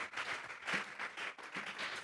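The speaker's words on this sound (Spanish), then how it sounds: "Vamos a regalarle ofrenda de palmas al Dios de la gloria." A church congregation claps during a Spanish-language sermon, a fairly faint, continuous wash of hand clapping that swells and dips for a couple of seconds.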